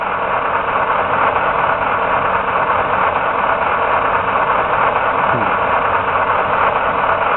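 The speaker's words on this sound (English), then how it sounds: "that is my Green Machine HC6000 demo unit" A Green Machine HC6000 demo unit runs with a loud, constant mechanical drone that holds unchanged throughout.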